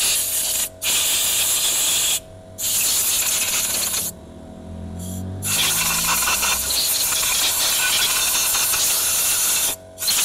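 Compressed air blasted in repeated long hissing bursts onto a Kawasaki motorcycle, loud and close, each spray separated by brief pauses, with a low rumble underneath midway.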